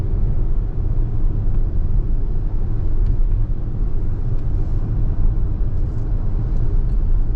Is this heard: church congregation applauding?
no